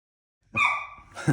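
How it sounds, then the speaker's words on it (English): A small dog gives a single short bark followed by a quick yip, faint and off in the background, with no one speaking. "Apologies in advance if you hear a little dog barking in the background"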